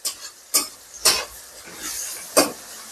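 Onion fries in a pan with bay leaf and cinnamon, a soft sizzle broken by four or five sharp scraping strokes of a spoon stirring against the pan at irregular intervals.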